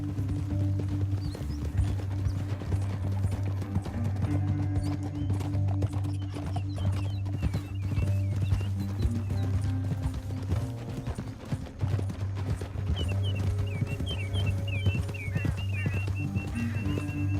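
Horse hooves clip-clop in a steady rhythm in Red Dead Redemption 2, fairly quiet, mixed with faint mechanical clanks and rattling.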